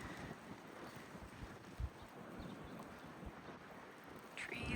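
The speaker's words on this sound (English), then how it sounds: "There's a lot of wind happening right now." Strong wind from a northeastern snowstorm, a bomb cyclone, buffets the microphone with a continuous low roar and occasional gusts and thumps, heard outdoors near snow-covered trees.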